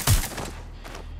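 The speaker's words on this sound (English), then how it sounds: "Shots fired!" Gunfire in the Watch Dogs: Legion video game: a loud, close shot cracks out, followed by a few fainter trailing pops over a low hum.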